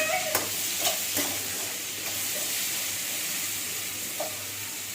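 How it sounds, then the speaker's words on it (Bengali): Pointed gourd pieces frying in a pan, an even steady sizzle with a few sharp stirring scrapes early on, moderately loud and close, no voices. "একটু টাইম লাগে ভাজতে, ভালো করে লাল করে ভেজে দিতে হবে"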